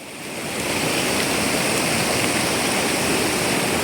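A stream in Kerala, burst and flooded during heavy rain, roars in a dense, constant rush of water that swells in over the first half second and then holds loud and steady.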